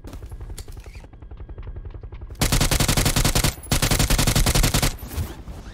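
A PUBG battle royale match with rapid automatic gunfire shooting through a window. Early bursts of quick rhythmic shots build into loud, sustained full-auto strings that pause briefly and then resume.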